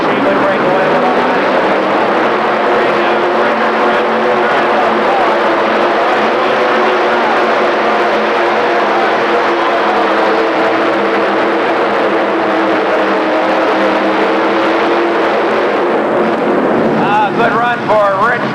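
A mini rod tractor engine roars loud and continuous through a tractor pull run at a 1985 indoor super pull event, a sustained high-revving drone with a commentator talking over it.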